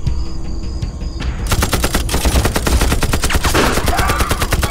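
Film gunfire in a wartime action scene: a loud, rapid burst of automatic shots in a dense, steady rhythm, close and continuous after a short lead-in, with no talk over it.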